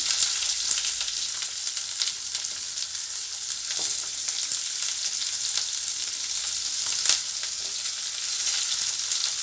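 Onion, ginger-garlic paste, cumin and fennel sautéing in oil in a pan for channa masala, giving a steady, close, even sizzle with faint stirring scrapes and no one talking.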